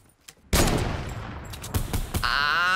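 Fortnite gameplay gunfire crackles in a rapid, noisy burst of shots that starts abruptly and continues with scattered further cracks, fairly loud and close.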